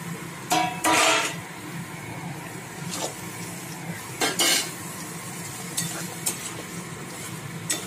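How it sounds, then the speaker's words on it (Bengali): Prawns going into coconut milk masala in a pan, a low steady sizzle broken by several sharp scrapes and clinks of a spoon stirring against the metal, close and fairly quiet. "এবার চিংড়ি মাছগুলো দেবো"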